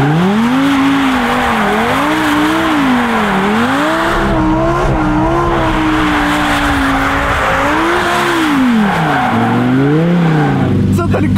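A Lamborghini Huracan Evo does a burnout with a loud, close engine whose pitch wavers up and down as it revs, over a constant broadband hiss of spinning, squealing tires.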